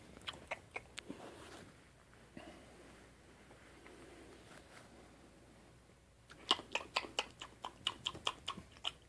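A small child chewing a first bite of pizza close up, with soft irregular crunchy bites and wet mouth clicks, sparse at first and then a quicker run of chewing near the end.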